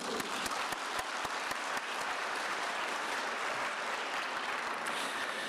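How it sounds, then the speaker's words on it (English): Steady audience applause at a summit opening session, dense clapping sustained throughout at an even level, with a few sharper individual claps standing out near the start and no talking. "Please, another big round of applause for all of them."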